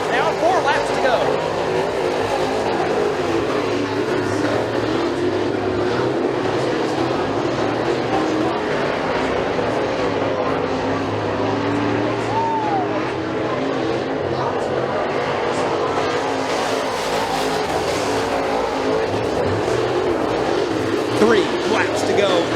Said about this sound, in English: as they sling the machines through turns 3 and 4, back on the front straightaway, 4 laps down, 4 laps to go.